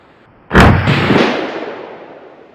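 A single sharp rifle shot fired from a bipod, loud and close, cracking out suddenly and then rolling away in a long fading echo.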